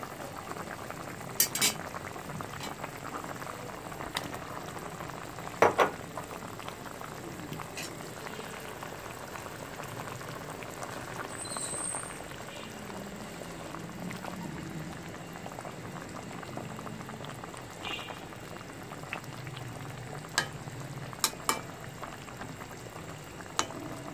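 Rui fish and winter vegetables simmering in a curry pot, a steady low bubbling boil with occasional clinks of a utensil, close and moderately quiet, no talking.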